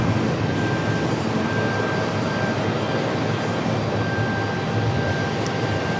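An ATR turboprop airliner at Raleigh-Durham International Airport gives a steady, loud broadband engine roar that holds evenly throughout with no pauses and no voices.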